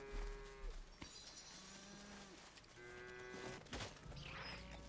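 Cows moo in the Lego Fortnite video game, several long lowing calls rising and falling one after another over a steady ambient game background, fairly close and clear.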